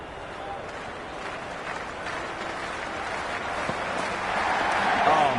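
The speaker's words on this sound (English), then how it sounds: "It's the most enthusiastic crowd you could ever see right now. There's a buzz, a real buzz coming from the stands." Cricket crowd buzzing in the stands, a steady broadband roar of many voices that swells gradually louder toward the end, with scattered claps and no distinct individual speech.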